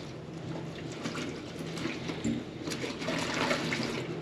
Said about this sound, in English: Get the feathers nice and wet, and then give them a good wash.